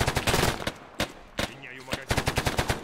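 Rapid bursts of automatic gunfire in a video game, played near and loud in quick repeated volleys with a short lull in the middle.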